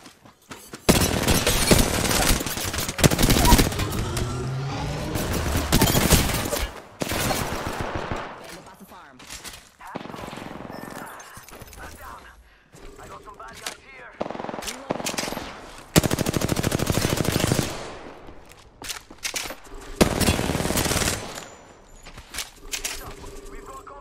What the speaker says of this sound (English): Always remember to reload your gun.